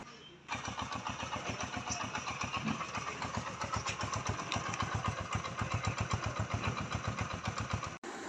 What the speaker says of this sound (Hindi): अब सबसे लास्ट में इस बाइक का साउंड टेस्ट करके आपको दिखाते हैं